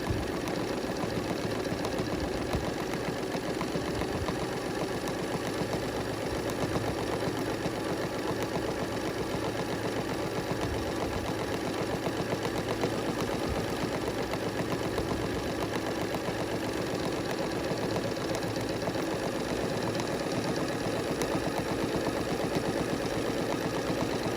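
A domestic embroidery sewing machine stitching decorative stitches on a quilt sampler block, giving a steady, continuous mechanical whir and rapid needle chatter that runs evenly throughout at close range, with no talking.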